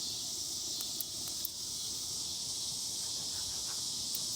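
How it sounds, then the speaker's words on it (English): Cicadas droning in a steady high-pitched buzz that holds constant at moderate volume, with a few faint ticks and no voices. "The cicadas are calming down, so usually they're just pretty loud when it first starts to get time"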